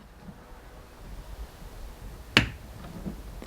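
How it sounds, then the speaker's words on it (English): A tail light bulb socket on a 2019-2021 Chevrolet Blazer snaps into its housing with a single sharp, close click, surrounded by faint background rustle and hiss. "You should hear that little audible pop, which you did."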